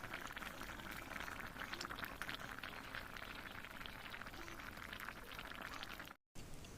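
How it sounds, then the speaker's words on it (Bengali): Chicken curry just beginning to boil in a pot gives a steady, close bubbling hiss that runs without pause. A brief dropout comes near the end. "এই যে অল্প অল্প ফুটতে শুরু করেছে"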